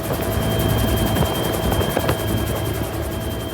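Helicopter in flight on a trip out of Kabul to Ghazni, Afghanistan: a steady, loud rotor drone with rapid rhythmic blade chop and a high whine, continuous throughout with no voices.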